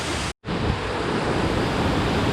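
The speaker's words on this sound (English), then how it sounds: "So We arrived at the river, finally." A river near Minca, Santa Marta, Colombia flows with a steady, loud rushing wash, broken by one brief cut, heard close with some wind buffeting.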